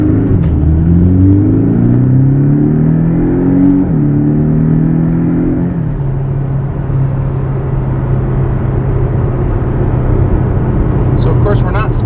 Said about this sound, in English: We're just going to get a feel for the power of the car.